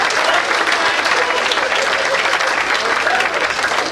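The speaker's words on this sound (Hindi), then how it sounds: "बजाओ एक बार फिर से तालियां।" Sustained audience applause in a crowded hall at a Hindi poetry or speech event, dense steady clapping that fills the whole stretch at a loud, even level.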